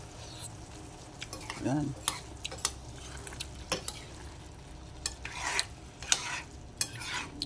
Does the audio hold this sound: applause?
no